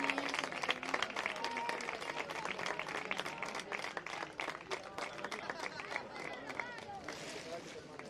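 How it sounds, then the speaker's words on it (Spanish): Sustained applause from a crowd at a mixed-category summer tournament final, steady dense clapping with a background murmur of voices, fairly distant and even throughout. "Fuerte aplauso para los segundos."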